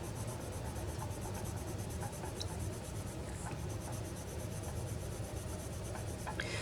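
Colored pencil dragged across paper under hard pressure, a steady dry scratching and rubbing that fills the whole stretch with no one speaking.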